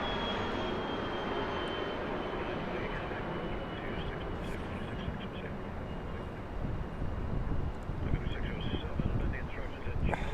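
A departing airliner roars steadily at Phoenix Sky Harbor airport, a broad continuous engine rumble that swells slightly toward the end, with outdoor wind and faint voices of spotters nearby.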